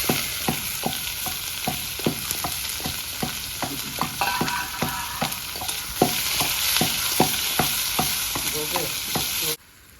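Raw onion with bay leaf, dried red chilli and whole cumin frying in oil for a village-style chicken curry, a steady sizzle under regular, evenly paced scraping of the spoon, close up, ending abruptly.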